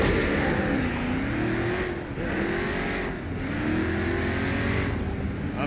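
A car engine revs hard and continuously in the video game Crackdown, its pitch rising and dipping in repeated surges with tire noise underneath, loud and close with no talk.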